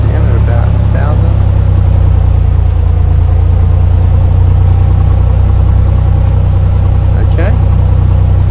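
A Cessna 182 Skylane piston engine idles at about 1,000 RPM just after start in a flight simulator game, a loud, steady low rumble with someone talking over it.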